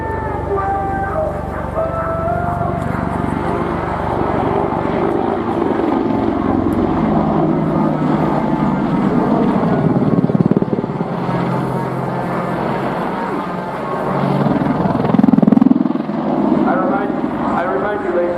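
A Royal Netherlands Air Force aircraft looping at an air display roars steadily overhead, its loud engine noise swelling and fading with the manoeuvre, with a commentator's voice over the public address.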